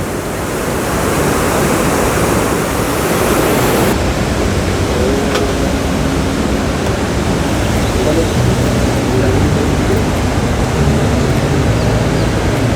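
The fast-flowing Ganges rushing through a Himalayan valley, a loud, steady, close roar of churning water that fills the whole stretch without pause.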